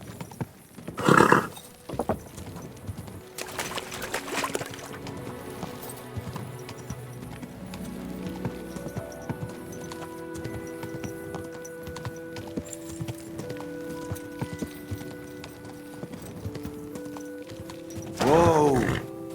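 Horse hooves clip-clop in the video game Kingdom Come: Deliverance 2, soft rhythmic steps under game music, with louder bursts of horse noise near the start and end.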